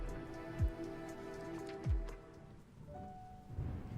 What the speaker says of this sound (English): the rain eases up